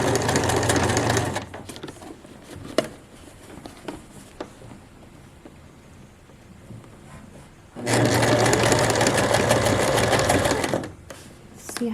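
A sewing machine stitches a pants waistband in two loud, close bursts of rapid needle chatter, separated by a quieter pause with faint handling noises.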